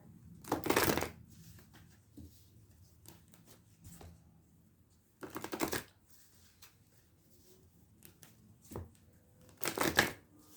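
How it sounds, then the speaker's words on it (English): Tarot cards shuffled and drawn from the deck, three loud riffling bursts spaced a few seconds apart with soft card taps and slides between them, close and with no voice. "let's pull a card, see if we can bring this together"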